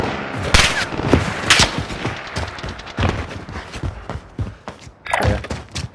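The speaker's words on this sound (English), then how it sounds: "Somebody else was shooting at him also." Gunfire in the video game Call of Duty Warzone, with rapid overlapping bursts and single sharp shots in a busy exchange, loud and close, alongside thuds and shuffling movement.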